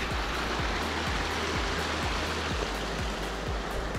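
Steady, close rush of a small mountain stream beside a hiking trail below Piz Valletta, flowing water filling the whole clip without any voices.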